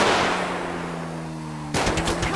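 Rapid bursts of automatic gunfire in GTA V rattle out loud and close over a low steady engine drone, with a fresh volley kicking in near the end.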